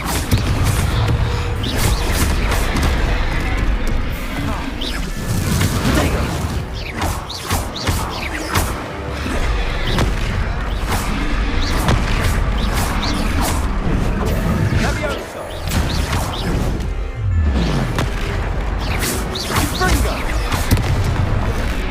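Confringo blasting spells exploding during a boss fight in the Hogwarts Legacy video game, loud continuous booms and crashes layered with battle clatter, with voices shouting spells over them.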